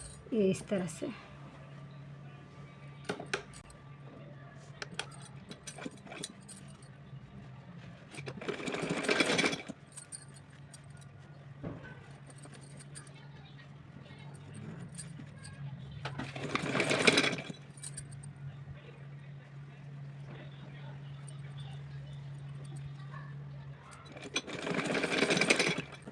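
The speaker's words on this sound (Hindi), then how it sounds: "फ़ोल्ड करने के बाद में इसके ऊपर मैं अब सिलाई लगाऊंगी" A sewing machine stitches folded fabric for a small Laddu Gopal dress in three separate bursts of steady whirring, with someone speaking softly between runs over a constant low hum.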